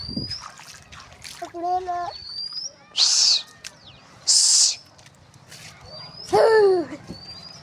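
Pigeons coo softly, and several loud bursts of wing flapping break out as birds take off close by. A person talks briefly in between.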